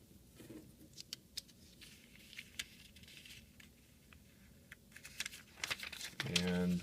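Sheet of origami paper being folded corner to corner and creased, a run of soft crinkles and light taps under a quiet voice, ending in a louder rustling scrape as the fold is pressed flat.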